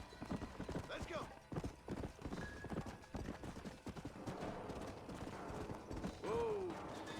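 Hoofbeats of a horse clip-clopping at speed in the video game Red Dead Redemption on Nintendo Switch, a steady rapid drumming close up, with a brief whinny near the end and game sounds over it.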